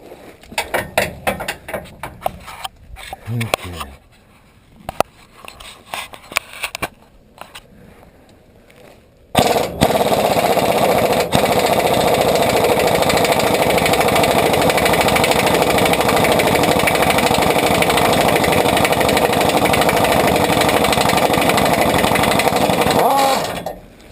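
An air impact wrench works on the rear bumper bolts of a 2008-or-later GM/Chevy truck, first in short sputtering bursts as air pressure runs low, then a long continuous loud rattling hammer close by, with no talk.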